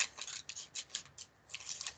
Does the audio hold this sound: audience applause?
no